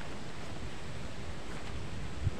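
Strong storm wind at typhoon signal number 1 sweeps across a banana plantation, a steady, dense roar of gusting air buffeting the microphone with no break and no voices.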